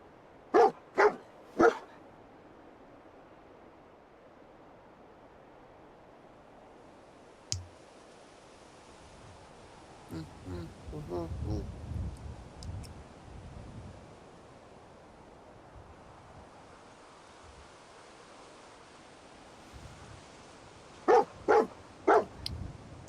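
Dogmeat, the dog companion in the video game Fallout 4, gives a few short barks at the start and again near the end, with scattered clicks and a soft low rumble in between, and no speech.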